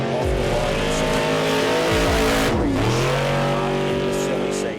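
Race cars and trucks launch off the start line at the Finke Desert Race, engines revving hard and pitch sweeping as they pull away close by, with tyre scrabble and a commentator talking throughout.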